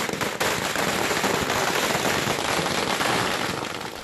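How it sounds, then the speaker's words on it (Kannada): A dense string of firecrackers bursts in rapid continuous crackling during a local celebration, loud and close, running without pause before easing slightly at the end. "ಬೈಂದೂರು ಬ್ರಹ್ಮಾವರದಲ್ಲಿ ಸಿಹಿ ಹಂಚಿ ಪಟಾಕಿ ಸಿಡಿಸಿ ಸ್ಥಳೀಯರು ಸಂಭ್ರಮಿಸಿದರು"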